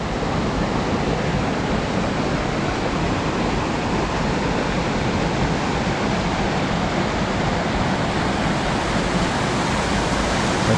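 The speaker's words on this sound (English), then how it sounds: "right here is where the water tumbles down the Screw Auger" Screw Auger Falls in Grafton Notch State Park, water tumbling and spiraling down through the rock, a steady loud broadband roar that holds constant throughout with no voices.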